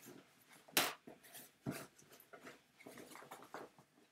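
A dog sound from the Club Penguin video game, with short barks and whimpering yelps in quick irregular bursts, faint and close with no talk over it.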